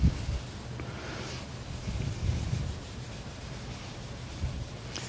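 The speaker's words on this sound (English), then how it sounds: "The idea here is that you just remove all the excess stain." Excess stain wiped off wood sanded to 120 grit with a rag: a steady, soft rubbing swish that continues without a break, close and moderately loud, with no speech.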